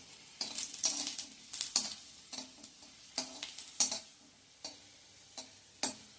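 Garlic cloves fried in oil in a kadhai, with a spoon scraping and stirring in irregular close taps and scrapes over a faint sizzle, quiet overall and without any voices.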